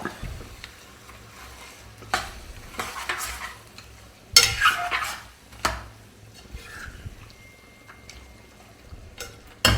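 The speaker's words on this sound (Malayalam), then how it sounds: "ഇതൊന്ന് ഇളക്കി യോജിപ്പിക്കാം." Mutton stew being stirred in a pot in a home kitchen, made mother's style: intermittent scraping and clinking strokes of a spoon against the pot over a low bubbling simmer, with a few sharper knocks.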